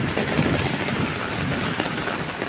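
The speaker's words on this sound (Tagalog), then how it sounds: "malakas lalo ang ulan" Heavy rain pours steadily, a dense, loud hiss of drops with no pauses.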